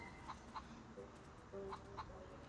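A chicken clucks in Harry Potter: Wizards Unite, giving several short, faint clucks in two small pairs with a soft low tone between them over quiet background hiss.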